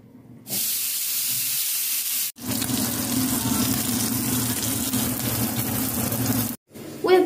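Pork belly slices hit a hot grill and sizzle in a steady close hiss that runs for several seconds, broken by a brief pause before it resumes.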